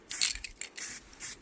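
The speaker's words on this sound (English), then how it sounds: "spraying it on lightly and just moving around the forks" Short hissing bursts of spray paint on bicycle forks, several quick light blasts in a row, close up with brief pauses between them.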